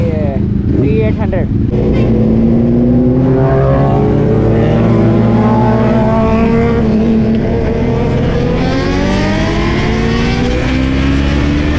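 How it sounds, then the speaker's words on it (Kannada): A Kawasaki motorcycle roars loudly and continuously during a road trip, its engine pitch climbing and shifting through the gears. A voice speaks over the engine noise. "ಒಂದು ಹೊಸ ಬೈಕ್ ಜಾಯ್ನ್ ಆಗೈತ್ರಿ ಕವಾಸಾಕಿ"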